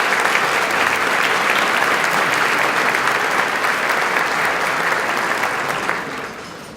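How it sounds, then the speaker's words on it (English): A luncheon audience at the Portsmouth State of the City event applauds the distinguished guests at the head table, a dense, steady wash of many hands clapping that holds for about six seconds before starting to fade. "Please join me in a round of applause for all our distinguished guests at the head table."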